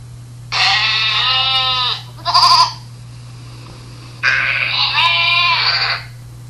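Sheep bleat twice, loud and near: two long, wavering cries separated by a short pause, with a brief electronic sound between them over a steady hum.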